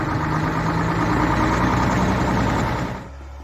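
A McCormick X7.690 tractor's engine runs at a steady, loud, low rumble close by, then drops off sharply near the end.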